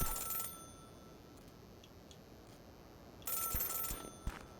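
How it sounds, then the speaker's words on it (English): A telephone rings on a mountain in a video game, two bursts of bright electronic ringing at the start and near the end, separated by a quieter stretch with faint chirps. "Phone ringing on the mountain."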